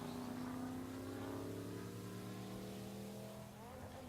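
Ford Mustang drag cars, a 1998 and a 1994, accelerating side by side at a Pueblo, Colorado motorsports park, engines droning loud and steady with rising harmonic tones, fading slightly toward the end.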